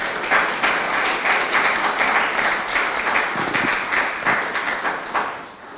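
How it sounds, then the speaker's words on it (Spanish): An audience applauds the professors at an event, a dense continuous wash of hand clapping that stays loud throughout and eases slightly at the end, with no speech over it. "yo creo que un aplauso para ellas"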